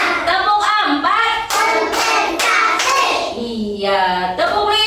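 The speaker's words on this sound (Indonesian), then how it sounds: "Tepuk satu, tepuk dua, tepuk tiga, tepuk empat" A group of children clap their hands in a classroom counting clap game, sharp claps landing in a loose rhythm among chanting young voices and an adult speaking.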